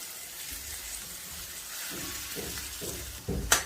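Soaked dal tipped into a pan of frying chopped tomatoes and coriander, giving a steady close hiss of sizzling that briefly swells with a few soft thuds and a sharp clatter at the end.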